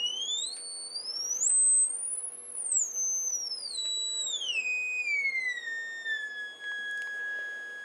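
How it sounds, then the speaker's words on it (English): A Stark LEG 55 audio generator, also sold as the Leader LEG 55, plays a pure sine tone through a speaker. The steady whistle glides sharply upward in pitch, then sweeps back down and settles. "right now I have it on a pure sine wave."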